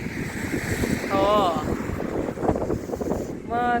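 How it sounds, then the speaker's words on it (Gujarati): Steady cold wind at Mount Abu rushes and buffets the microphone throughout, a broad blustery roar, with a few brief voiced calls or chirps breaking through over it. "ઠંડો પવન આવે છે"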